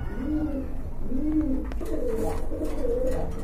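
A pair of large pied racer pigeons coo in repeated soft, throaty phrases, close by and steady, with a low background hum and no talking.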